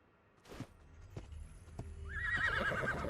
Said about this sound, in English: Horse, go away.